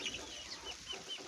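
Young fowl on a farm during rain, soft high chirps and clucks scattered over a low steady background wash, fairly faint and brief with no talking.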